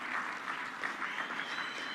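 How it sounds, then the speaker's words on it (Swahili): Audience at a Dar es Salaam public event applauds the President with steady, sustained clapping that fills the whole moment, dense and fairly loud with no voices over it. "Naomba tumpigie makofi sana Mheshimiwa Rais"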